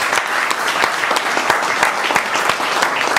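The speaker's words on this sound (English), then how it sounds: "please give Pratima a big round of applause." An audience gives loud, brisk applause for Pratima after her presentation, dense overlapping claps filling the whole stretch with no speech over it.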